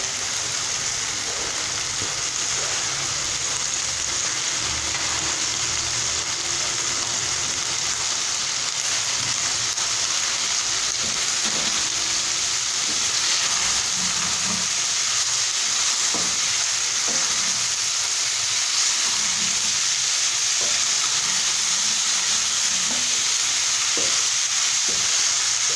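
Bell peppers and onions sizzling in a pan, a continuous bright hiss of frying with occasional stirring clatter, steady and close for the whole stretch without speech.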